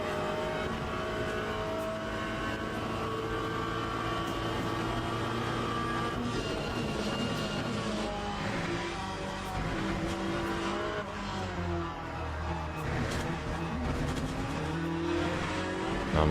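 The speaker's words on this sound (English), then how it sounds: "Oh my god, BMW acceleration." A BMW race car accelerates hard through the gears in the Le Mans Ultimate racing game, with a loud continuous engine roar, rising harmonic sweeps, occasional tyre squeal, and no talk over it.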